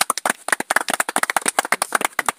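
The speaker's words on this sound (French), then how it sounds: "Alors, on va applaudir notre ami qui vient d'arriver." Audience clapping for a newly arrived participant at an agribusiness gathering, a dense run of sharp hand claps, close and steady, with no talk over it.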